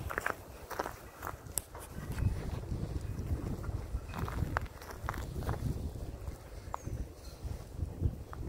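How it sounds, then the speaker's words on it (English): Cold, sub-zero wind blows outdoors at East Cemetery Hill in Gettysburg, a steady low rumble buffeting the microphone for the whole stretch, with a few faint scuffs and knocks scattered through it and no talk. "A little windy and it's sub-zero."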